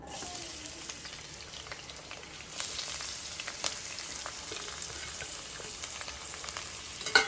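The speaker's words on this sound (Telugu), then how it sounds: "ఆయిల్ హీట్ అయిన తర్వాత కట్ చేసుకున్న పచ్చిమిర్చి ఉల్లిపాయ ముక్కలు అయితే వేసుకుందాం" Chopped green chilies and onion pieces sizzle steadily in hot oil, a continuous close frying hiss with small crackles and a brief stir near the end, no talking.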